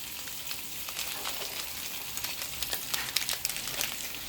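Squid sizzling as it fries in a hot pan for mekus mekus, a steady crackling hiss with scattered sharp pops, close and fairly quiet, with no voices.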